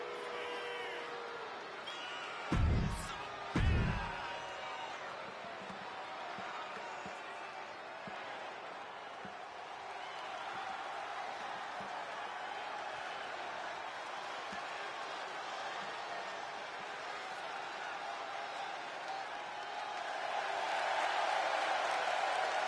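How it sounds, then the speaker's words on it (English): Arena crowd noise in the wrestling video game WWE 2K25: a continuous roar that swells toward the end, broken early by two sharp thuds. "Listen to that crowd."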